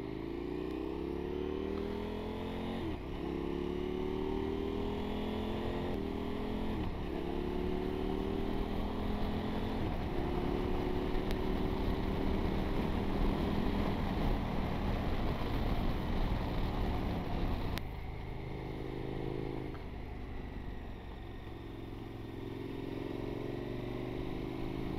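A KTM 1290 motorcycle ridden through West Yorkshire countryside: a steady, loud engine drone with wind noise throughout, and the pitch rising and falling through several gear changes.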